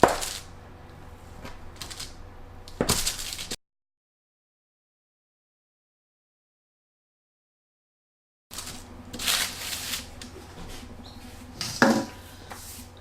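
A knife cuts through date and lemon scone dough into three pieces, giving soft scraping and tapping sounds against a board, in two short stretches separated by a silent gap.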